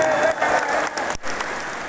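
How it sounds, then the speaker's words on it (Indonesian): A large crowd of volunteers applauds at an outdoor campaign rally in Bengkulu, a dense, continuous wash of clapping heard from a distance across two seconds with no clear speech on top. "Tepuk tangan untuk para relawan semua yang hadir."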